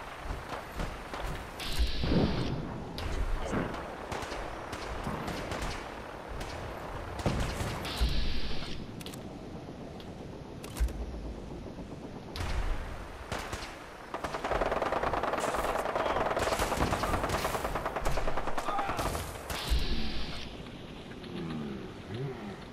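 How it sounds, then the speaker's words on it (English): Gunfire in Fallout 4 rattles in loud automatic bursts and single shots across a long stretch of combat, separated by brief quieter gaps. "We go in shooting."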